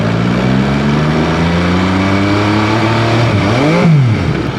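An MV Agusta Superveloce 800 exotic sportbike with an 800cc three-cylinder engine revs loudly and close up, holding a steady, rising drone before a quick blip and fall near the end.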